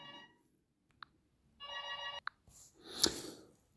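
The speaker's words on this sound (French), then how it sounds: "on sonne" A telephone or doorbell rings in two separate bursts of bright electronic tone, heard indoors with short gaps, followed by a louder rustling clatter.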